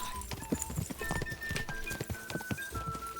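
Rapid hoofbeats of a horse galloping in Kingdom Come: Deliverance 2 drum close and steady throughout, with a faint whinny-like tone and game ambience underneath.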